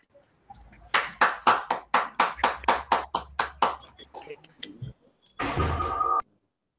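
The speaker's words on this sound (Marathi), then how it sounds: "आपण सर्वांनी टाळ्या वाजवूया का?" Rhythmic, evenly spaced hand claps ring out one after another for an online book launch, followed by a short, denser burst of clapping before silence.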